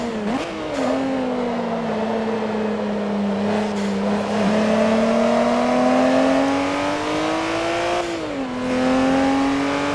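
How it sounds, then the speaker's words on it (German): A Nissan Skyline in Forza Motorsport 3 pulls through the gears, its engine whining steadily with pitch dips at each shift and a turbo hiss rising above, loud and close. "Man hört jedes Mal den Turbo."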